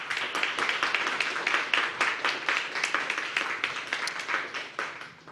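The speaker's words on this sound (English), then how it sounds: "Round of applause." Applause from an audience at a governor's workforce summit: steady, moderately loud clapping from many hands that thins out slightly toward the end.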